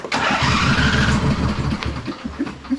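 A 2005 Husqvarna YTH2448 ride-on lawn mower engine cranks and catches, then runs with a loud, close, rough idle that wavers and sputters slightly toward the end.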